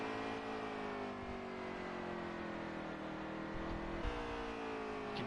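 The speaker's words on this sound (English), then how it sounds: "You can hear the motors of Jeremy's car just bogged down, lower RPMs than what Pagano was running" NASCAR Heat 3 video game race truck engines, a Toyota Tundra among them, droning loud and steady at high revs with slowly falling pitch and a brief shift near the end, no talk over it.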